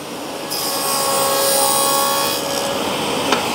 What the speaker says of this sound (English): Put it up to the fence, saw on, dust extractor on